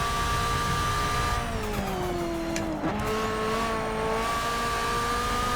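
Engine of a Nissan R91CP race car over-revving at Silverstone in Forza Motorsport 6, a loud sustained high-pitched drone that briefly dips and recovers mid-clip before holding steady.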